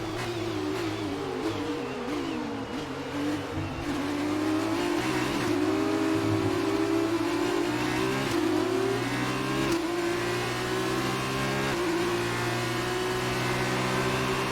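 A Formula race car engine from F1 2019 screams steadily at high revs, pitch rising and falling with gear changes and downshifts, loud and continuous with no talking.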